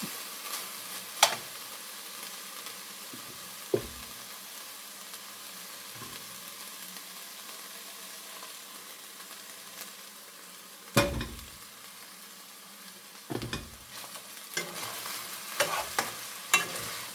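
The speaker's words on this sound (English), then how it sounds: "you can hear it sizzling" Diced pork frying in manteca with a low steady sizzle, broken by occasional clanks and scrapes of stirring in the pan.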